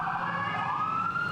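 An ambulance siren wails through Bangkok street traffic at a busy Thai crossroad, a steady rising tone sounding moderately distant above a low bed of road noise.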